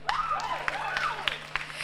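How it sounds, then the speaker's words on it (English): Crowd applause at a live Ghanaian beauty pageant broadcast, scattered claps with a few sharp individual hits, while a voice carries on over the clapping. "A round of applause for her."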